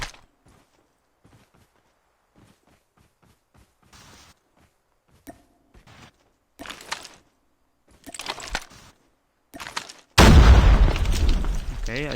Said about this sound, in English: Okay, I just got naded on.